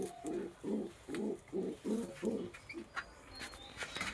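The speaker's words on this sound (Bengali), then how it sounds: "তো এখন দেখতেছি মাদি কবুতরটি বসে আছে।" Pigeons coo from a nesting loft with a brooding female nearby, a close run of about seven soft rhythmic coos followed by fainter rustling and small chirps.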